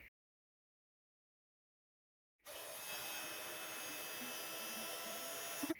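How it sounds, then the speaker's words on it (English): A heat embossing tool blows hot air onto gold embossing powder on pink cardstock, starting abruptly after a silent pause and holding a steady, close, loud whooshing hum with no speech. "I'm going to heat emboss this alphabet onto my pink cardstock. And I'm going to heat emboss that in gold"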